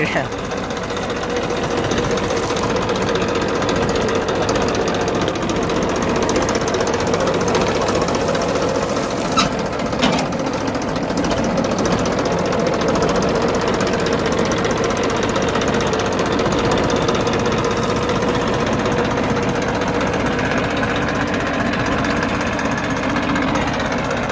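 A tractor engine runs steadily and loudly throughout, with a rough knocking rumble, while people talk over it.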